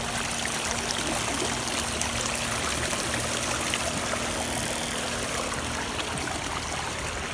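Water from a water heater flowing steadily through a suction tube, a continuous close trickling stream with a faint low hum underneath, no voices.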